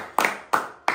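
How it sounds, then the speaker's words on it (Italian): Three sharp hand claps spaced evenly about a third of a second apart, close and alone with no talk. "Puoi applaudire"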